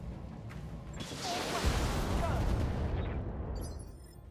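Mech weapons fire in the RogueTech video game, a sustained barrage of booming, crackling shots and whooshing projectiles building over a few seconds, fairly loud and dense, then tapering off.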